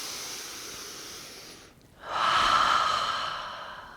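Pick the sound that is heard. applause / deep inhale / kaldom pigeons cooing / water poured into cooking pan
deep inhale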